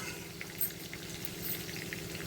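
Green mango pieces frying in a pan give a soft, steady sizzle with faint crackles, close by and quiet, with no voices.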